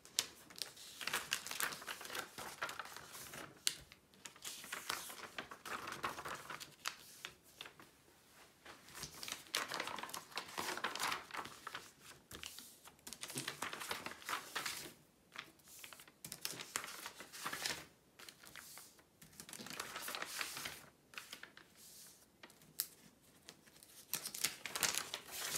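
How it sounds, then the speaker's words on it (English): Backing paper is peeled off a diamond painting canvas up close, a long run of crackling, crinkling and tearing sounds in irregular bursts with brief pauses, fairly quiet overall. "I'll just peel back the paper so you can see where I'm up to"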